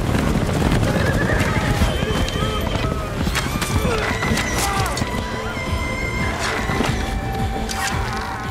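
Horses neigh and whinny repeatedly over galloping hoofbeats in a video game battle at a burning enemy camp, loud and continuous, with chaotic shouting and clatter mixed in.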